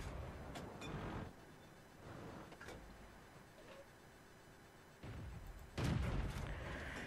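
A Stug IV tank cannon fires in World of Tanks with a few muffled booms, the loudest near the end, amid a low rumbling engine and battle ambience, with no speech.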